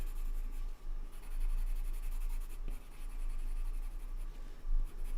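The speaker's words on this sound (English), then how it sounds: "I'm just going to burnish that a little bit just to get rid of some of the grain" Coloured pencil burnishing the grain of paper while drawing a hare: a continuous, close, soft scratchy rubbing with brief pauses and a steady rhythm of strokes.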